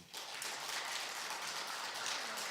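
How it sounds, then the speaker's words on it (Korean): Church congregation in a concert hall rising and applauding, dense sustained clapping filling the room without pause, no voices standing out. "일어서 기립하셔서 박수 한번 쳐 주세요."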